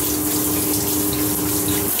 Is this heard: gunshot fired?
no